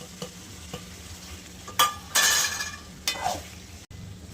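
Masala frying in a pan for paneer tikka masala is stirred in a few strong, scraping bursts over a quiet background sizzle. A light clink is heard near the end.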